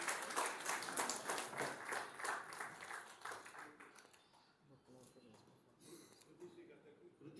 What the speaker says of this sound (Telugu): అందరూ ఒకసారి చప్పట్లు పెట్టవలసిందిగా కోరుతున్నాము